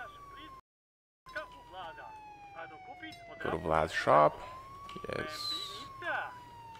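A police car siren in the video game Contraband Police wails steadily behind the scene, rising and falling, with a short gap early on, while someone talks over it and other noises clatter.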